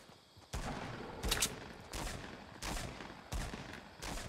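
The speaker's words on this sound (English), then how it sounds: "Being shot at." Gunfire in the Fortnite video game, repeated bursts of shots in several loud volleys spaced about a second apart, with a sharp crack near the middle and no talk.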